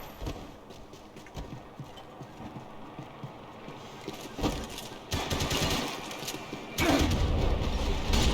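Enemy gunfire in the video game Max Payne 3, rattling bursts of automatic shots that grow louder and denser toward the end, heard without speech.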